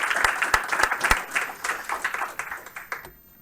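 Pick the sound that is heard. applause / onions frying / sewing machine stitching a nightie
applause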